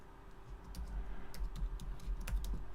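Rapid, steady keystrokes on a small computer keyboard, a close and moderately loud clatter of clicks running continuously with no talking.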